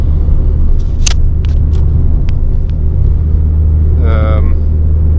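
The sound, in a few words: Renault Clio RS 200 engine with K-Tec racing induction kit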